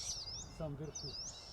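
Owl chicks in the Siberian forest call out to their arriving mother, a few faint, high, wavering cries rising and falling over quiet outdoor ambience, with some soft lower chirps mixed in.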